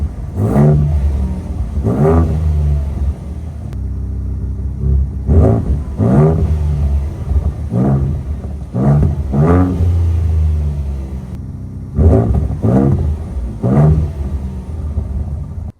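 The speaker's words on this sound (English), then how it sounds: "What it sounds like in normal mode," A Ford Ranger Raptor engine in normal drive mode revs repeatedly, several rising vroom bursts in clusters over a steady, close rumbling idle, with no talking.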